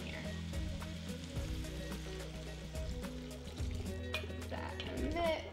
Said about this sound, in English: we're gonna put about a cup of red wine in here.